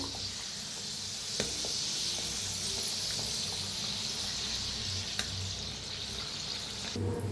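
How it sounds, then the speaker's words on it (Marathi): Kachori deep-frying in hot oil gives a steady, dense bubbling hiss with occasional small pops and clicks, close and continuous throughout. "तळून घेऊया"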